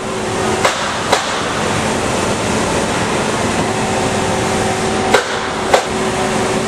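An Amada saw's shuttle vise homing after calibration, a steady mechanical hum and whir with a few sharp clunks spaced through the run, no voices.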